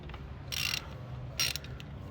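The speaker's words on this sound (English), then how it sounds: "you want to break those 2 bolts loose first" Ratchet wrench loosening brake caliper bolts on a 2008 Ford Ranger, two quick bursts of metallic clicking close by with quiet background noise between them.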